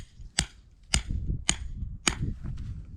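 Metal hook peg driven into garden ground for a tipi tent, four sharp, evenly spaced hammer strikes about half a second apart, close and loud, with faint scuffing between blows.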